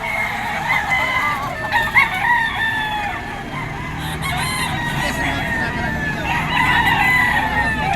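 Several stag roosters of the golden boy sweater breed, early bird banded, crow repeatedly at a crowded gamefowl market in Bocaue, Bulacan, their overlapping calls loud and close over steady crowd murmur.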